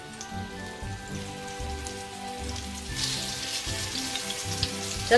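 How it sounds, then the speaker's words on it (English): Beef cheeks sear in grapeseed oil in a pot with a dense, steady crackling sizzle like rain on a surface, swelling slightly midway, with a faint hum underneath and no voices. "I just want to sear them"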